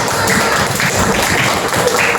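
A group of children clap their hands together in a classroom during an anti-corruption awareness session, producing a dense, steady patter of close, overlapping claps that lasts the whole stretch.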